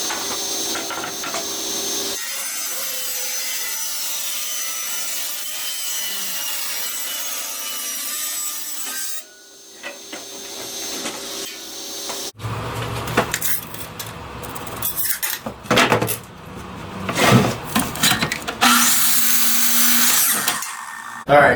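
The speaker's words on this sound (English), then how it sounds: "I'll get them ripped on the table saw" Wooden boards are ripped on a table saw for rough barn-look sign stock: a long blade whine, then a quieter stretch, then several loud, uneven bursts of cutting as boards feed through, close by.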